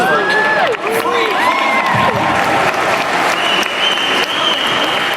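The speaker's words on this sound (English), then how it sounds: "That should have been a much bigger round of applause for it." An audience at a comic con panel bursts into loud applause mixed with cheers and whoops, close and lively, while a voice shouts over the crowd.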